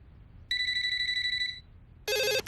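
A telephone rings in an ad for Kids Help Phone, with one long electronic ring tone followed after a short pause by a second, harsher ring burst, heard over a quiet low background.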